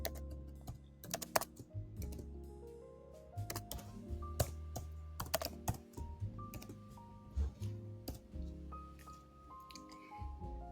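A computer keyboard is typed on in quick, light clicking bursts while soft background music plays steadily beneath.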